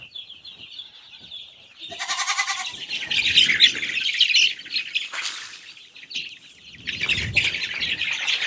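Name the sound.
chickens squawking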